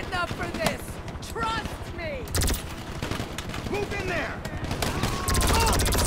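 Gunshots ring out in GTA 5 Online during a drug-war mission, a burst of rapid fire followed by scattered single shots, fairly close and loud, with people talking over the action.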